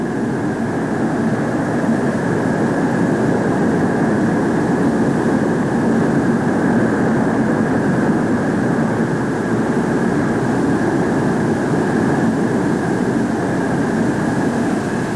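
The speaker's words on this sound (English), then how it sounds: "As the F-102 taxis back to the waiting crew, winding up its first day of flight testing" Convair F-102 jet aircraft taxiing back after its first day of flight testing at Edwards Air Force Base, a steady, loud jet engine roar with a constant whine that holds unchanged throughout, nearby and alone.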